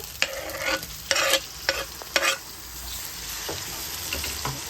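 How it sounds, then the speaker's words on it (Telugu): Chopped tomatoes and onions sizzle in a frying pan for a small fish curry, a steady frying hiss broken by several loud scraping stirs early on, then quieter sizzling with faint clinks. "మనం కట్ చేసుకున్న టమాటాలు కూడా వేసుకుందాము టమాటా ముక్కలు"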